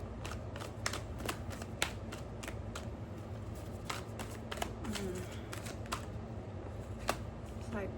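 Oracle cards being shuffled by hand at close range, giving crisp, repeated riffling snaps in an irregular rhythm over a quiet low hum, with no talking.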